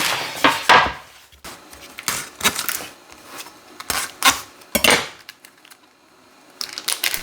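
Wooden cutting board handled in a home kitchen while making miso soup, giving a series of sharp knocks and clatters, some close and loud, others lighter, spread irregularly with short pauses between.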